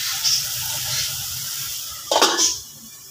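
Spices frying in a covered pan: a steady soft sizzle and hiss throughout, with a brief louder clatter near the end.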